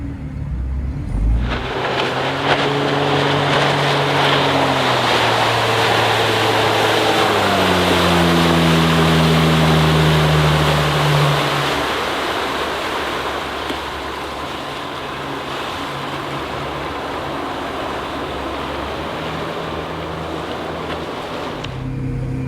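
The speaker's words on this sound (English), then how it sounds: "We'll turn around and give her a full speed run now." A Glastron GT 209 cuddy boat's Volvo Penta 4.3 GXi 225 hp engine roars up to full speed, its pitch climbing steadily, then holds at a loud steady drone under wind and splashing water.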